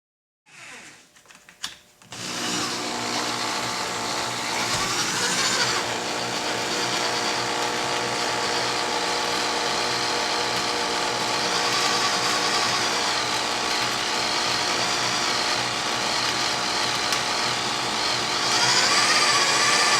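A drill bores slowly through hardened engine mount bolts on a 1987 Ski Supreme boat, a steady grinding, ratcheting whir running continuously and loud after a brief start.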